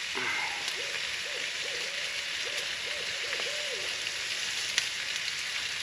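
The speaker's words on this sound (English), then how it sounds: "Wonder what that owl's doing hollering" Outdoors in an Alabama summer, an owl hoots in a repeated series of soft, low calls at a distance, steady beneath a constant sizzling hiss from a skillet on a campfire.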